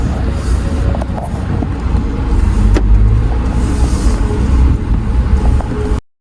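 A 2024 GWM Tank 300 4x4 SUV with a 2-liter turbocharged gasoline engine sets off on a test drive, with a steady close engine rumble and road noise inside the cabin until it cuts off at the end.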